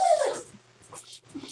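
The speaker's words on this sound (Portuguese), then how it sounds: "É um cachorro aqui, pessoal." A dog gives a brief, high whining whimper at the start, followed by faint softer whines and small noises in the background of a quiet room.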